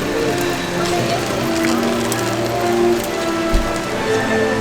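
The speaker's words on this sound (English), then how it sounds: "Oh, I think it's started to rain a little bit heavier now." Rain falling at Disneyland Paris, a steady close patter spreading across the whole scene, with a brief low thump near the middle and faint crowd murmur underneath.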